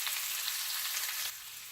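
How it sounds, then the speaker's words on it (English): Onions sizzle and fry in a pan with a constant crackling hiss that drops a little in level near the end. "And then add the onions. So I'm going to saute this for a bit"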